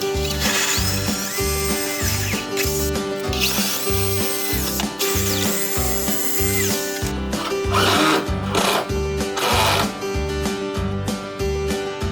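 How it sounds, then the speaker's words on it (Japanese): A hammer drill grinds loudly and continuously into a concrete wall, its rapid pounding steady throughout with brief shifts in pitch. "まずは振動ドリルでコンクリートに下穴を開けます。"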